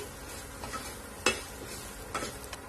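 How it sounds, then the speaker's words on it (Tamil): Kashmiri chilli powder sautés in oil in a pan while making potato capsicum masala, a soft sizzle under the scrape and clink of a spoon stirring, with one sharp metallic knock partway through. "இதையும் லேசா வதக்கி விட்டுறலாம் எண்ணெயோட சேர்த்து"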